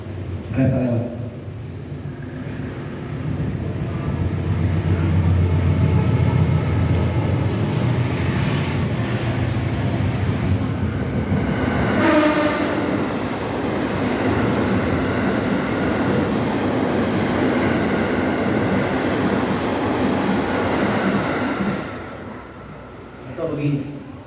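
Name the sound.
train passing by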